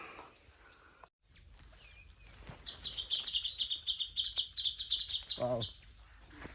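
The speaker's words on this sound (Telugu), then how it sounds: "పక్షులు బాగా అరుస్తున్నాయి" Birds call loudly in a farm field, a rapid run of high chirps and a short burst of clucking fowl, nearby, with faint rustling before them.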